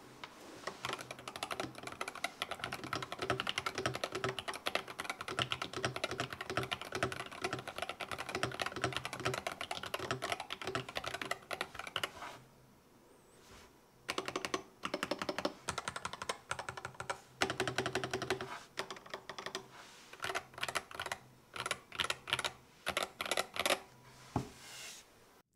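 Someone types on a Yunzii RT68 rapid trigger mechanical keyboard, producing fast, dense clacking keystrokes up close. A brief pause comes midway, then the typing resumes in quicker, choppier bursts.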